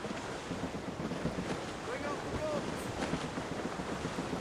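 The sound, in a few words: strong wind and ocean waves at sea in video game Assassin's Creed Rogue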